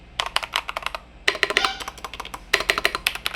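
Rapid keystrokes on a GD100 Dark Flash 98%-layout mechanical keyboard, clicking in quick bursts with a short pause in between, close and clear with no talk.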